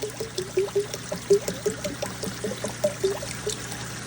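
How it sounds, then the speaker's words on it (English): pH upper solution poured into a hydroponic tank makes a close, gurgling trickle of irregular liquid splashes over a low steady hum. "I'm just gonna pour that pH upper on in there."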